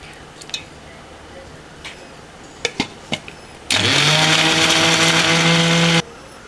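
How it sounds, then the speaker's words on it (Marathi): A kitchen mixer grinder whirs loudly and steadily for about two seconds as it blends mango slices with milk, almonds, cashews and cardamom for mango ice cream, after a few short clicks and knocks. "व सगळं हे ग्राइंड करून घ्यायचं आहे मिक्सरमध्ये."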